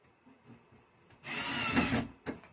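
Power drill driver tightening screws into a ceiling-mounted full-motion TV bracket, a loud whirring burst of about a second followed by a brief second spin, close by with quiet handling sounds before.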